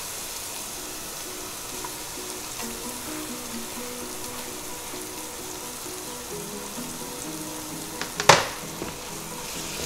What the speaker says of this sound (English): Saute this for about 3 to 4 minutes until the tomatoes get nicely softened